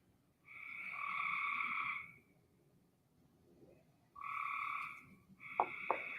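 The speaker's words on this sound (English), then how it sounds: "Hey, frogs, shut up." Frogs croak at night in loud, sustained trilling bursts, two long calls separated by a pause, then a third with a few sharp clicks, all close and alone over faint background noise.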